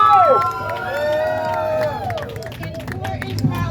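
A rally crowd gathered for Mayor Kim Janey's endorsement of Michelle Wu cheers and claps. Loud whoops and shouts sit over steady applause, and voices carry through the noise.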